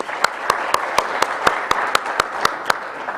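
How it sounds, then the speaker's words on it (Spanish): An audience at a technology and productivity conference panel applauds, a steady wash of clapping with one nearby clapper standing out in an even, quick beat for about three seconds, no voices over it. "brindémosle un aplauso a los dos,"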